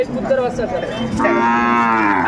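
A Sahiwal bull calf at a cattle market in Dhaka gives a loud, close, drawn-out moo that rises in pitch midway and holds to the end, with no talk over it.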